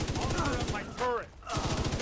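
An automated turret opens fire in a video game, with a fast, steady rattle of shots at the start, a brief break filled by a chirping electronic sound, and then more rapid fire.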